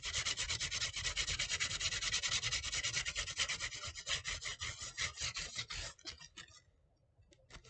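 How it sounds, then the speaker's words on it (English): Sandpaper rubbing down the soft plastic hull of a 1/570 Revell Titanic model kit, a loud, close, rapid back-and-forth rasp that runs steadily for about six seconds, then slows and fades out. "Since it's so soft, we can kind of go with this type of sandpaper on the side. We can sand it down."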